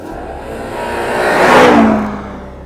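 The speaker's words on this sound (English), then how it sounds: "the engine, that roar, the growl from the V8, and the response is immediate." The V8 engine of a Range Rover Sport SV Edition 2 roars as it revs up, swelling to a loud, growling peak and then easing off, heard close with no talk.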